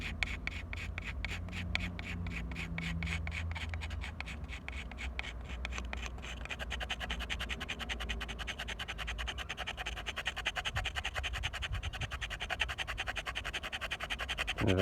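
A pointy screwdriver scrapes over metal on a 1970 Mustang Mach 1, a quiet, continuous rapid scratching and rasping at close range with no talk.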